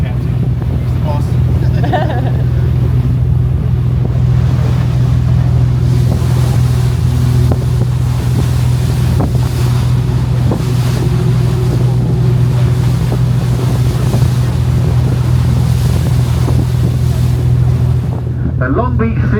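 Motorboat engine drones low and steady under rushing water and wind aboard a whale watching cruise boat off Long Beach, California, continuous and loud throughout, with people talking faintly over it.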